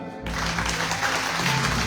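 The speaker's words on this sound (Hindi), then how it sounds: "एक छोटा ताली।" A church congregation at a Hindi Christian worship service breaks into a short round of clapping after a brief tone, a full, even burst of many hands sustained for nearly two seconds.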